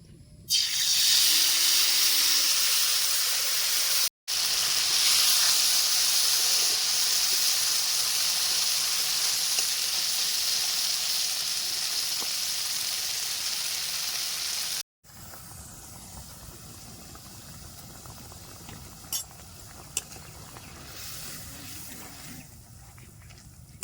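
Small fish frying in hot oil in a wok, a loud, steady, continuous close hiss, with two abrupt cuts and a quieter, fainter sizzle in the last stretch.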